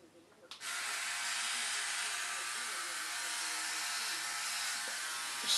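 A Philips OneBlade electric shaver switches on after a brief pause, then buzzes in a steady, close, high-pitched whine with faint scraping of shaving against stubble, running alone to the end.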